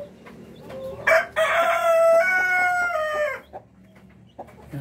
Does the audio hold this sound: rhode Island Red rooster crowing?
yes